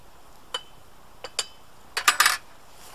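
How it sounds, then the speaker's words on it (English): A metal spoon taps and clinks against coffee grounds and a percolator's basket, a few sparse taps early on followed by a quick cluster of brighter metallic clinks, close and fairly quiet. "I'm just going to get the spoon, just tamper it down."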